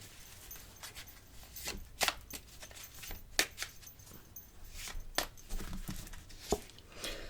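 Crisp snaps and rustles of a tarot deck being cut and handled on a table, a series of separate close card flicks and slaps at uneven intervals, quiet between them.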